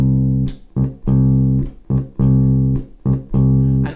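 Electric bass guitar plays a simple rock groove alone, with sustained low notes broken by short gaps in a steady, repeating rhythm.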